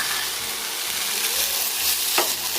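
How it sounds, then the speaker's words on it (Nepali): Tofu fries in a pan with a steady, dense sizzle and crackle, close up and continuous, with no talking. "अब मैले बाँकी रहेको टोफूलाई फ्राई गर्न लागिरहेको छु।"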